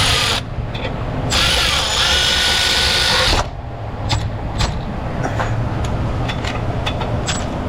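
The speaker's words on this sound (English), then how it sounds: "The old Tecton ratchet on there." Ratchet tightening torque converter bolts in an auto repair shop, loud rapid clicking bursts up close followed by several sharp individual clicks and metallic ticks amid workshop background noise.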